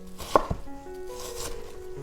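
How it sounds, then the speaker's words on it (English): A kitchen knife slices across a diced onion on a cutting board, a few quick, close thuds and chops in a short burst, with no talking. "all you need to do is go and cut across this way while you're turning the onion"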